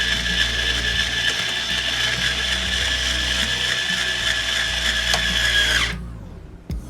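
Cheap tuners on a Fender Squier Mini guitar are turned, giving a continuous, loud, close-up ratcheting grind of gears that runs for several seconds, then stops abruptly, leaving near silence.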